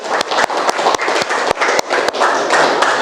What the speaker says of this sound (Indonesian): silakan tepuk tangan dulu untuk temannya yang berani menanggapi